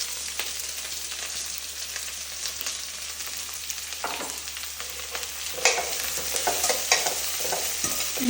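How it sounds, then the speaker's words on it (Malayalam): Curry leaves, green chilli, onion and carrot sauté in a pan, with a steady sizzle and repeated scraping stir strokes that grow louder and busier toward the end. No one speaks. "കറിവേപ്പില, പച്ചമുളക്, സവാള, ക്യാരറ്റ് ഒന്ന് വഴറ്റി കൊടുത്ത് റെഡിയാക്കാം."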